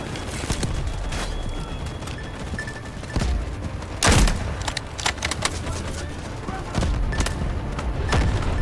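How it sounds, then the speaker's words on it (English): Incoming artillery barrage in the video game Delta Force Hawk Ops: dense, continuous gunfire and battle noise with several heavy booming impacts landing at intervals, loud throughout. "Incoming artillery."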